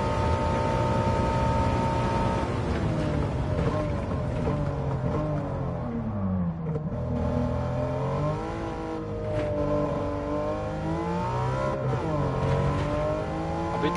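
Porsche Cup race car driven flat out in Gran Turismo 7, its engine a loud, steady high-revving roar that holds for the whole stretch, with pitch sweeps as the revs rise and drop through gear changes.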